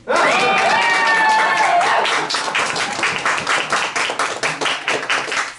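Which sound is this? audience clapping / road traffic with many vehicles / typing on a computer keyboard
audience clapping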